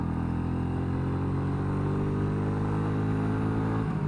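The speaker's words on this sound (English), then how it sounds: "So second gear roll on." Royal Enfield Meteor 350 motorcycle pulling in second gear on a road roll-on, its single-cylinder engine a steady, close drone of low harmonics that rises gently in pitch under wind rush, with no talking.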